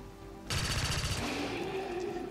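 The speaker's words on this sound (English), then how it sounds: "I'm going to take a couple of headshots." Gunfire in the turn-based strategy game XCOM 2 erupts suddenly after a quiet moment, a loud burst of rapid shots followed by a sustained crackling tail and echoing rumble.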